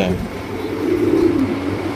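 A pair of glossy black beauty pigeons cooing nearby, low soft murmuring coos that swell in the middle, with a brief bit of background noise at the start.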